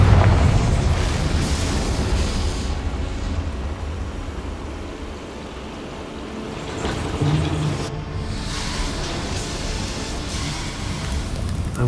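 A fiery Confringo spell blast in Hogwarts Legacy on PS5 erupts as a loud, deep booming explosion, its rumbling roar swelling and fading, then a second burst follows near the end.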